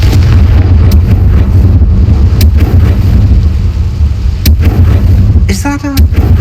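In the Hogwarts Legacy video game, a Confringo fire spell bursts with a loud, booming blast over a heavy rumbling bed of noise, with sharp cracks scattered through the scene.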